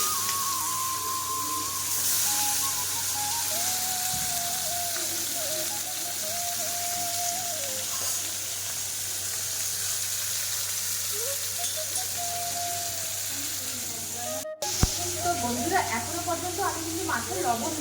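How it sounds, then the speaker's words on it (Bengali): Fish coated in turmeric frying in hot oil with panch phoron and dried chillies, a steady bright hiss of sizzling that runs through the whole stretch beneath a person talking. "মাছটা দেখো তেলে দিয়ে দিয়েছি"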